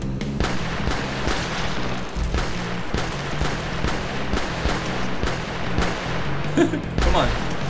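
Rapid pistol shots in the video game Wrack, a dense stream of sharp cracks and booms repeating throughout over game music, fairly loud and close.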